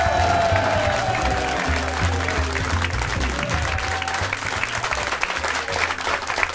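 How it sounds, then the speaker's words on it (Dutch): Enthusiastic applause from an audience, continuous and full, with some cheering mixed in and a low hum beneath. "Applaus."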